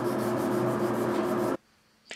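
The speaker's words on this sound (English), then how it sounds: "I'll use some 400 grit sandpaper and just lightly sand over the entire surface" Steady, even rasping of 400-grit sandpaper lightly rubbed over a bass guitar body's finish, continuous for about a second and a half, then it stops abruptly with a brief faint scrape.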